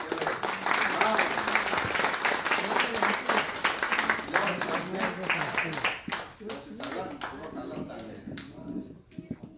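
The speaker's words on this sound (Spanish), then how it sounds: "Fuerte aplauso." Loud, sustained applause from a crowd celebrating mothers, dense clapping that fills the space before thinning into scattered individual claps near the end, with voices mixed in.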